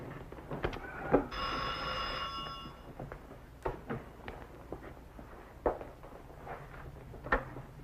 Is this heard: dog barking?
no